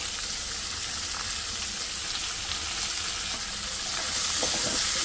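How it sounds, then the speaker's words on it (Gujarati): Onions frying with salt in hot oil in a pan, okra about to follow: a steady, dense sizzle running continuously and fairly close, growing slightly louder near the end, with no voices. "અને કાંદાને થોડીવાર મીઠું નાખીને આપણે પાકવા લઈશું તો ગોલ્ડન બ્રાઉન થોડા થઈ જાય કાંદા પછી આપણે ભીંડા નાખશું"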